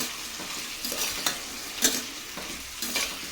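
Mixed vegetables with potato and peas are stirred in a hot pan, soft sizzling punctuated by several distinct scraping strokes of the spoon at irregular intervals, close and moderately loud.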